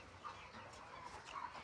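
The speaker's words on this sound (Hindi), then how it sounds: "ये मुर्गियाँ है" Hens clucking and murmuring softly in a noisy coop, with a few brief higher calls standing out over a steady background hum.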